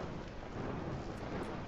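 A thunderstorm rolls through the Spirit of the North 2 video game, with low, sustained thunder rumbling beneath a constant hiss of rain and no voices heard.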